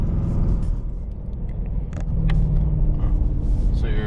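A 2024 Ford Mustang GT with its 5.0 engine rumbling steadily while driving, a low continuous drone with a slight swell toward the end and brief faint noises on top.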